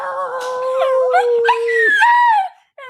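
A dog howls in long, wavering, rising and falling notes, loud and close, as though singing along for about two and a half seconds before falling quiet.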